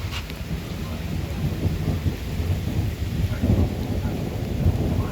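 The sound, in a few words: thunderstorm with thunder and rain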